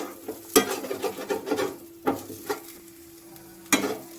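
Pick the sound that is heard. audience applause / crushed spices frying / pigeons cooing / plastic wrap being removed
crushed spices frying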